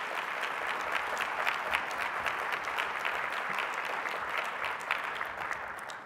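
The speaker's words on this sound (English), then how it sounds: "Let's give them all a round of applause as well." Steady, even applause fills a hall during a county State of the County address, many hands clapping in a dense continuous wash at moderate loudness throughout.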